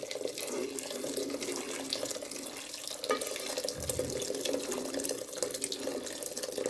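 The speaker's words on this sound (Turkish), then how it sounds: "Şöyle suyunu da koyuyoruz." Water is poured into a pot of spinach dough-drop soup, a steady close splashing and trickling stream that runs throughout.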